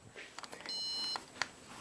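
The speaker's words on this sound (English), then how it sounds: "They beep when they find a stud." A handheld stud finder run across a wall beeps: a few short bleeps, then one sustained high electronic tone of about half a second, then a final brief chirp, close and clear with no talking.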